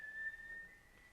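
One person whistles a single steady, sustained note, quiet and distant, with no talking.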